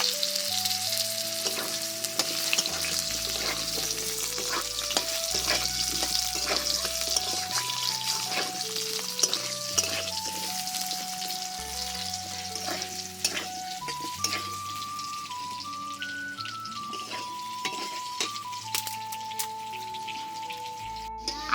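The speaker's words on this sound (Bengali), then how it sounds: "এবার ওই কড়াইতে আরেকটু সর্ষের তেল দিয়ে দিচ্ছি। এবার দিয়ে দিচ্ছি কেটে রাখা আলু। আলুগুলোকে লাল লাল করে আগে ভেজে নেব।" Cut potatoes fry in mustard oil in a kadai, with a steady sizzle and crackle and occasional stirring clinks, all under background music.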